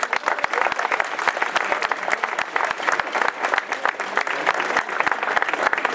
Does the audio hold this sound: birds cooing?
no